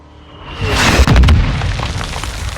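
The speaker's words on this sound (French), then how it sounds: "J'envoie des coups de mortier." A mortar explosion in the video game Call of Duty MW2, a loud, close boom that swells into a heavy rumbling blast and then trails off into a long, rolling decay.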